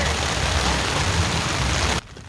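Rain falls on the Port Austin Pier in Michigan as a steady, dense hiss of drops close by. It holds unbroken for about two seconds, then cuts away to a much quieter background.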